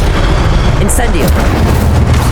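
A fire spell, Incendio, cast in Hogwarts Legacy bursts out as a loud, dense roar with a booming, explosive edge that fills the whole short moment.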